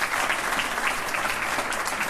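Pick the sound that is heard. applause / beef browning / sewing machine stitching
applause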